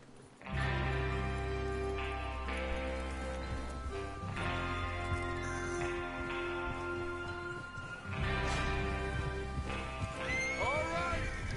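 Horses in a PS4 video game whinny and neigh as a gang mounts up and rides out, with clip-clopping hooves under a steady swell of game music. No one speaks.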